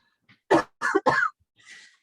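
Harsh, repeated coughing from a person recovering from a bad cold, at a council meeting: three or four close, raspy bursts in quick succession, followed by a faint throat-clearing breath.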